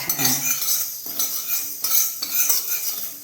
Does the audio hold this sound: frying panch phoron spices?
yes